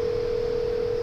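Incoming call tone on a rail dispatch dealer turret telephone, part of a Cisco lineside VoIP system: a steady, unbroken electronic tone held at even loudness throughout, with no voices.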